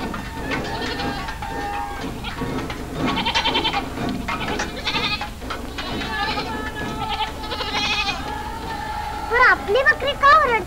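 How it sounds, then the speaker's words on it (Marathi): Goats bleating in a 1944 Marathi film scene, several loud wavering cries near the start and again at the end over background voices. "आपली बकरी का ओरडतात?"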